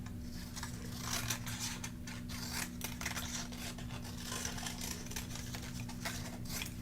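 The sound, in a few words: scissors cutting a paper card template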